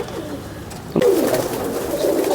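Pigeons coo softly nearby, low murmuring calls that grow fuller after a brief bump, with no voices.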